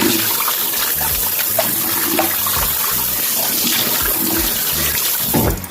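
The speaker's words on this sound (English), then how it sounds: "Wash my knife, wash my sink," Tap water runs steadily into a kitchen sink while a knife and the sink basin are rinsed before vegetables are washed, a continuous close splashing rush with small clinks and shifts in the flow.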